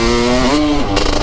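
A Kawasaki GPX 250R motorcycle fitted with a smart carb revs up, its engine pitch climbing then dropping back, loud and close throughout with no talking.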